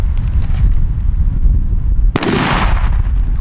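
A sharp, loud bang from a Vipper 3 firecracker bursts out after a stretch of steady outdoor rumble, followed by a brief crackling hiss as it fades.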